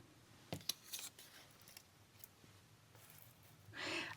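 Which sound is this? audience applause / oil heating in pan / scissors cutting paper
scissors cutting paper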